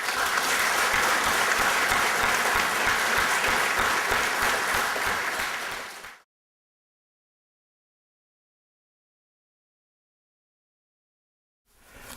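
A lecture audience applauds loudly and steadily for about six seconds to welcome the Chief Minister at Oxford University's Said Business School, then falls silent before faint clapping returns at the end.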